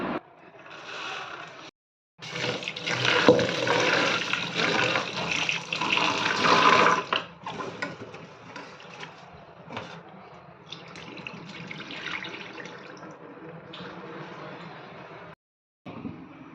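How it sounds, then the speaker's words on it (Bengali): Running tap water pouring over red lentils being rinsed in a kitchen for a Bengali dish, a steady splashing stream that swells loud, then continues softer with short pauses. "নিয়ে নিলাম মুসুর ডাল কিছুটা পরিমাণ। তো এটা ভালোভাবে ধুয়ে নেব।"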